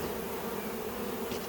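Honeybees buzz steadily at an opened hive in a stack of two medium boxes above the excluder, a continuous close drone with no talking.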